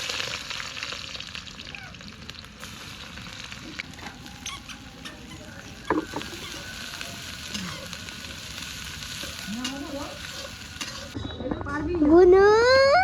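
Sliced onions hit hot oil for a jackfruit biryani and sizzle steadily with light crackle and stirring clatter, close and moderately loud, rising into a louder burst near the end with a voice briefly over it.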